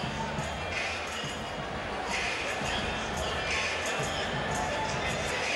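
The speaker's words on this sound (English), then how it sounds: "huge crowd on hand to see our main event, featuring Mike Tyson and Englishman Danny U" A large crowd fills an arena at a boxing event at Freedom Hall in Louisville, Kentucky. The murmur and chatter is dense and constant, with faint scattered shouts and no single voice standing out.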